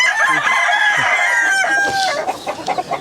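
Close by, a heavy, short, stocky rooster lets out a loud, drawn-out crow that fades into clucking and scuffling, with no talking over it.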